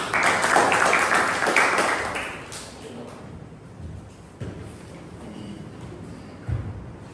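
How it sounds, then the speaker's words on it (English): A Toastmasters club meeting audience claps loudly at the start, and the applause fades out within about three seconds, leaving a quiet room with occasional thumps. "A big round of applause, please."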